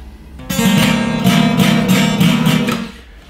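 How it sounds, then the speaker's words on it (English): A brand-new Schecter electric guitar with a badly bent neck is played for about two and a half seconds of strummed, sustained chords that sound close and fairly loud, with no talking. "This guitar is, the neck is so bent, I can't play it."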